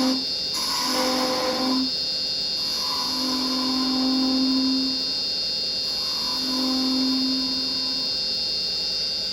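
A wood lathe turns a small finial for a Christmas birdhouse down to a point under a carbide detail chisel, giving a steady whining hum with three drawn-out cutting passes that swell and fade, close and fairly loud, no talk.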